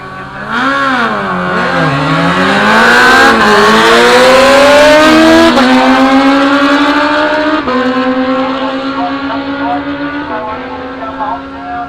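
Drag racing motorcycles at the Willowbank street series event, a loud, close engine roar climbing in pitch through several sharp gear shifts as the bikes accelerate down the strip, then fading slightly.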